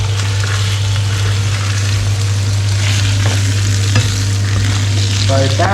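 Barramundi pan frying in butter sizzles steadily and loudly, a dense continuous crackle with occasional spatula scrapes and a constant low hum underneath.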